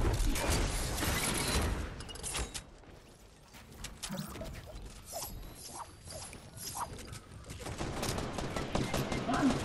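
Gunfire in Fortnite, with mixed shots and mechanical clicks, loud at the start and end and quieter in between, under game sounds and faint voices.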